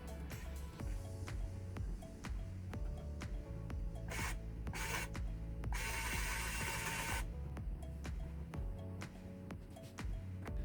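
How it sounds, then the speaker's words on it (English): Handle of a MakaGiC VS01 electric vise turned by hand in manual mode, making quiet ticking and clicking mechanism sounds with a few short rasping bursts in the middle. "switching to manual mode, I can fine-tune the clamping pressure by turning the handle"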